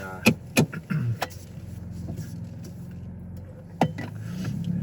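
A Ford Bronco Raptor readied to set off on a drive: a few sharp door or latch clunks, then a low engine hum and interior rumble building steadily, heard from inside the vehicle without talk.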